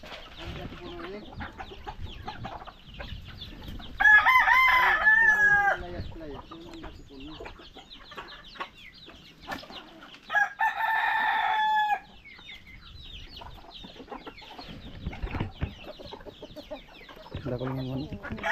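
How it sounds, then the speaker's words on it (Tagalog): Chickens cluck steadily while roosters crow loudly twice, long drawn-out calls standing out over the farmyard clucking. "Daming manok oh."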